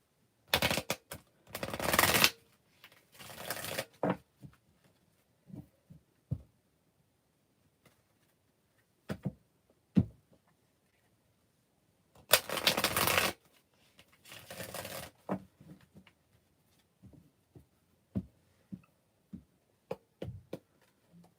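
Tarot cards being shuffled in repeated bursts of riffling and flicking, with two long shuffles and scattered single card snaps between them, close and fairly quiet.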